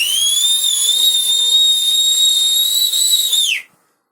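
Loud, piercing human whistle held as one steady tone for about three and a half seconds, then cut off abruptly, heard up close with no talking.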